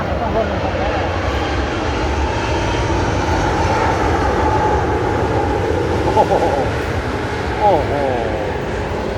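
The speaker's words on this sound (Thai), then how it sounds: "ตัดผมไปดูเครื่องบินไปยังได้เลยครับ" A fixed-wing airplane passes overhead near Suvarnabhumi airport in Bangkok, heard at a barbershop as a loud, sustained roaring engine drone that fills the whole stretch. Someone talks over it.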